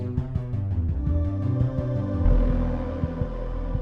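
A sustained GarageBand synthesizer note in the style of the Stranger Things theme, with a warm, droning low end and soft chordal tones layered above, swelling slightly as it holds.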